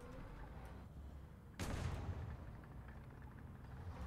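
A tank cannon shot in War Thunder, one sudden loud boom followed by a rumbling decay, standing out against a steady background of engine drone and battle noise.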